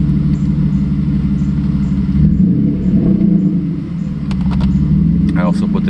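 A 1993 Mercedes 600SEC engine running steadily at a smooth idle, a loud close low rumble throughout, with someone speaking briefly near the end.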